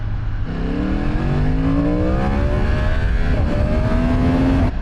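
A Yamaha R1 sports bike with a 200 horsepower engine revs hard, its pitch climbing through a rising sweep and then a second surge, loud and close throughout.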